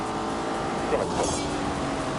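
A Lamborghini Urus SUV driving, a steady engine and road roar filling the whole stretch with a brief rise in the middle.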